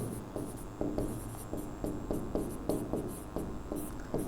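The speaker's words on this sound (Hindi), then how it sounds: "यहाँ पे मैं लिख दे रहा हूँ" Pen strokes scratching across paper while notes are written out during a Class 12 physics lesson on series and parallel capacitors, a steady run of short scratchy strokes and taps, fairly close and quiet, with no talking.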